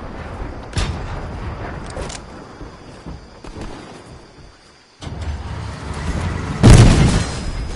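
Grenade explosions in a video game: a couple of deep booming blasts with rumbling tails among scattered gunshots, the loudest blast near the end, close and heavy.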